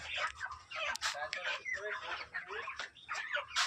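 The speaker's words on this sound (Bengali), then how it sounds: "স্পেশাল মুরগি।" Chickens cluck and squawk at a poultry farm, a busy, fairly faint flock chattering continuously at mid distance.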